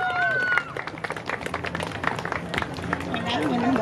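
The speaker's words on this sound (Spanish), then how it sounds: "¡Fuerte el aplauso para ella!" A crowd at a cosplay festival in Chetumal applauds cosplayer Zariie Moon, with scattered clapping and cheering mixed with loud voices and high whistling tones over the room's hubbub.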